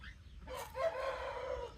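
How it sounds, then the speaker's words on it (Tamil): A bare-leg fighting rooster crows once, a short, moderately loud call rising after a brief pause, heard close up with faint background hum. "இது பார்த்தீங்கன்னா வெத்துக்கால் சேவல்"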